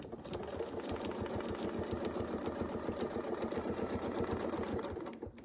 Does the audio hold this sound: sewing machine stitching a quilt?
yes